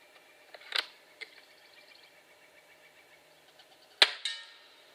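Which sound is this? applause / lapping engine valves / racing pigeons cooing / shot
shot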